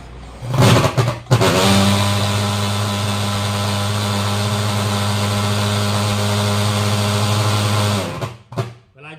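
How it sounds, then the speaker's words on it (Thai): An Igeba TF35 fogger starting up, with a couple of short bursts followed by a loud, steady, droning engine hum that holds for several seconds before cutting off abruptly, then a brief sputter. "กดสวิตช์สตาร์ทครับ เมื่อเรากดแล้วจะได้ยินเสียงคอยนะครับ ให้สูบเลยนะครับ"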